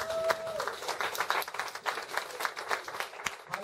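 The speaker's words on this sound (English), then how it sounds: "raise up and put your hands together for Minister" Church congregation at Winning Faith Chapel applauding for Minister Jesse Maringa, a steady patter of many hands clapping with a faint tone at the start and no talk over it.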